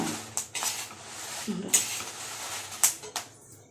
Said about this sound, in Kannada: ಇಷ್ಟು ಹೊಡೆದಿದ್ದೀನಿ ಹುರಿತಾ ಇದ್ದೀನಿ ಈಗ